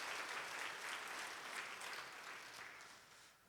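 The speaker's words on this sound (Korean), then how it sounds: "저희가 박수로 환영하겠습니다" A church congregation claps to welcome new members, a steady wash of many hands that fades slightly toward the end, heard alone and fairly soft.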